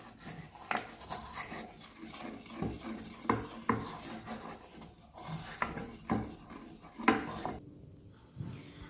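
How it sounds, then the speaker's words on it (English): Cocoa powder stirred into chocolate fudge icing in a saucepan off the heat, with repeated rasping scrapes and rubs of a spoon against the pan in an irregular rhythm, close and moderate, with no talking. "you're just going to mix that in to make your icing"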